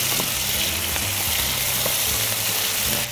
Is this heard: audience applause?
no